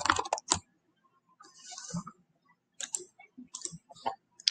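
A computer keyboard clicks in short bursts of quick keystrokes, near and fairly soft, with pauses between runs and no talk.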